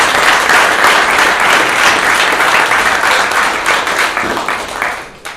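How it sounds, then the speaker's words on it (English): A room full of people applauding at an awards ceremony, dense and loud clapping that holds steady, then thins out and fades near the end. "Please give yourselves a round of applause."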